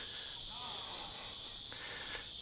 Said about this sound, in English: You can probably hear them, cicadas everywhere.